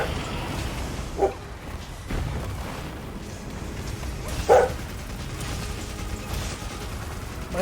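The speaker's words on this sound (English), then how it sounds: "My dog is yelling at me to hurry up." A dog gives two short, separated barks, one early and a louder one midway, over a constant mechanical hum and clatter.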